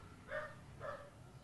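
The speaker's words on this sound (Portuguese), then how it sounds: "Estou ouvindo o cachorro latindo." A dog barks twice outside a family's house, faint and somewhat distant, with about half a second between the two barks over quiet background noise.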